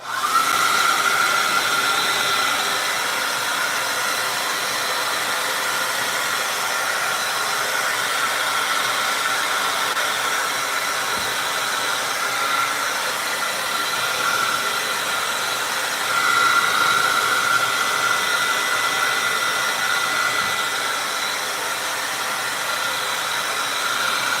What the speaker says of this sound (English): get out your hair dryer and dry off this background